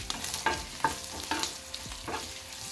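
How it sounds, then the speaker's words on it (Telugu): Curry leaves and asafoetida fry in hot oil as a tempering for sambar rice, a steady sizzle broken by four or five sharp scrapes of a spoon stirring in the pan, with no talking. "అందులో తాలింపులు వేసేసుకుంటున్నాను. కొంచెం కరివేపాకు."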